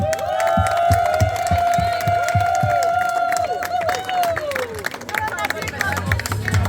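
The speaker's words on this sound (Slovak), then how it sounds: "Potlesk!" Applause at a closing ceremony, a crowd clapping steadily and cheering across the whole stretch, with sustained tonal music and background chatter mixed in.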